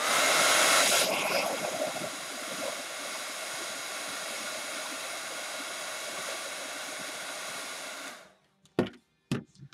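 Hair dryer blowing on a watercolor painting, a loud, steady close whoosh that runs for about eight seconds, then cuts off, followed by a few faint knocks.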